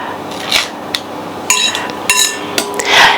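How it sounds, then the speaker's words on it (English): The back of a knife scraping orange zest off a metal grater, heard as a series of sharp, close metallic scrapes and clinks at an irregular rhythm, with no talking. "I'm going to use the back of a knife to slide against the grater to take some off."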